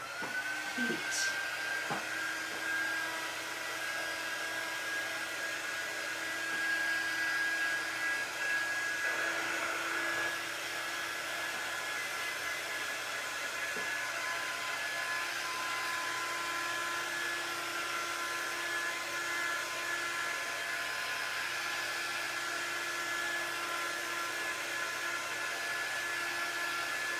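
A heat tool blows steadily to dry paint on a painted tea towel, a continuous whirring hiss with a faint high whine that holds evenly for the whole stretch, close and fairly loud, with no talking over it.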